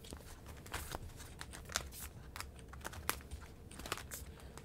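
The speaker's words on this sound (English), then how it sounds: "I like the sounds of these binders clicking and unclicking" Binder rings click open and snap shut in a quick irregular series of sharp, faint clicks amid paper rustling, close up with no talk.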